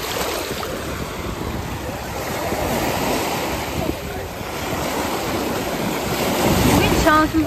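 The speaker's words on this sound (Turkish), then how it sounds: "Şansımıza dalgalı, normalde dalgalı değil." Sea waves breaking on a shore, a loud continuous wash of surf with wind buffeting the microphone, swelling toward the end, and a voice briefly audible late in the clip.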